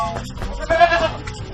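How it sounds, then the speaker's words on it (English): A single short goat bleat, nasal and wavering, sounds close and fairly loud for about a second. "Goat."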